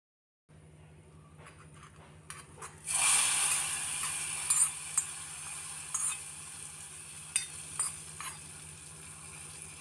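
Chili powder tempering for a dried fish tomato curry sizzles suddenly and loudly when it hits the hot oil, then keeps frying steadily while a spoon clinks and scrapes against the pan in short bursts.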